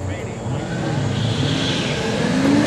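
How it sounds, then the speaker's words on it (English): A 1978 Chevrolet El Camino with a 383 cubic inch engine drag races on a Friday night strip, a loud continuous engine roar building in pitch, with a track announcer's voice running over it. "Chevrolet El Camino here, 1978 model, 383 cubic inch"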